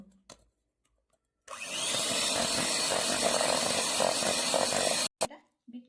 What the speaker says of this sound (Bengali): এবার আমি এটাকে ভালো করে বিট করে নেব।